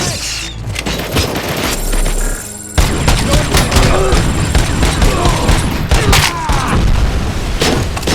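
A grenade explosion and rapid gunfire in the Robocop Rogue City video game: a deep boom lands partway through, then dense bursts of shots and impacts crackle loudly without pause.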